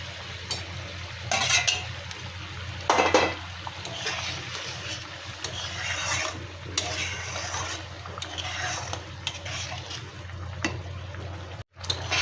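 Fried eggs go into a simmering egg curry pot and get stirred, a soft bubbling and sizzle with spoon scrapes and a few clanks against the pot, close and steady.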